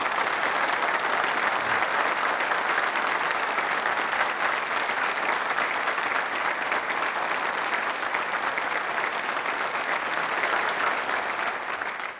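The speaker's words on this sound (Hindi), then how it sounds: "तालियां जोरों से बजाइए आप अपने लिए" University students in a quiz-show studio audience applaud loudly, a continuous, dense wash of clapping from many hands that holds steady throughout and tapers only at the very end.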